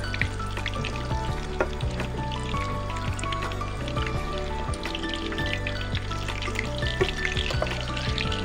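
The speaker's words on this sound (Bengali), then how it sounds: "দেখুন বেশ লাল লাল করে কিন্তু আমি ভাজছি" Pakoras fry in hot oil with a continuous bright sizzle and crackle, close and steady, with small bubbling pops scattered throughout.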